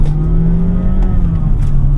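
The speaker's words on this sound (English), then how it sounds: "you can hear the engine working already" A 2025 Honda HR-V RS e:HEV hybrid engine revs steadily up close, a loud sustained hum with rising tonal whine and no talking.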